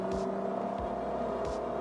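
The twin-turbo engine of a Cadillac CTS-V Sport hums at a steady idle with a deep, even drone and faint periodic pulses, close and continuous without any voices.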